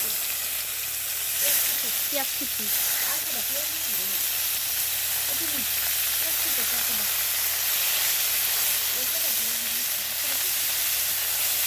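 Onion frying in hot oil with cumin, bay leaves and dried red chillies gives a steady, close sizzle and hiss. Someone talks over it throughout.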